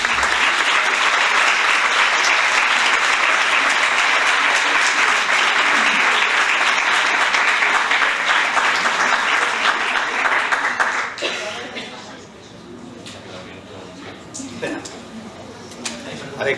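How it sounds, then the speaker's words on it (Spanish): Applause from the audience after a talk at a surgical safety panel, loud sustained clapping for about eleven seconds that then fades, with scattered claps and voices afterward. "que estemos dando un aplauso"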